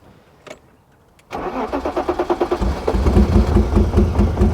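A BMW E34 535i with a no-start fault: a couple of clicks, then the starter cranks in a rapid rhythmic chug before the engine catches and settles into a loud, rough running roar.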